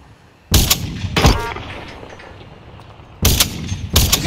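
Gunfire in a battle royale video game: two close, loud bursts of shots, each a quick pair of sharp cracks, separated by a quieter gap of about two seconds.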